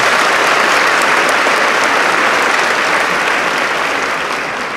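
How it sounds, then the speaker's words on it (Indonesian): Sustained applause from a large audience of young students at an Indonesian school gathering, dense steady clapping running loud and unbroken throughout, easing only slightly toward the end. "Tepuk tangan untuk kita semuanya."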